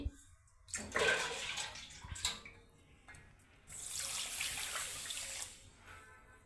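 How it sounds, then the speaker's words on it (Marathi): Finger millet grain is washed in water, with a couple of brief splashing swishes followed by a longer steady rush of running, sloshing water, close and moderately quiet. "तर आता ही नागली आपल्याला स्वच्छ धुवून घ्यायची आहे।"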